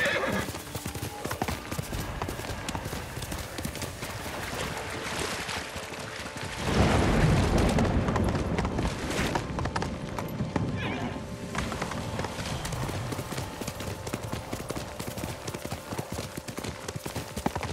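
Horse hooves clip-clop at a run in the video game Ghost of Tsushima, a close, rhythmic patter with a neigh and a loud surge of rushing effects midway, while a voice speaks briefly.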